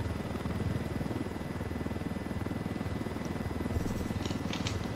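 A steady, rapid rotor thump of a helicopter in the video game Ghost Recon Wildlands drones throughout, close and even, with faint high clicks near the end.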